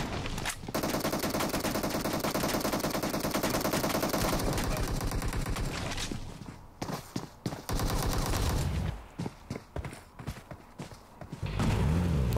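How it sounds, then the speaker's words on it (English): Rapid automatic gunfire in PUBG Mobile, a sustained loud burst of machine-gun fire followed by choppy bursts and single shots, then another continuous volley, with faint voices underneath. "Oh, did you see them shooting at each other?"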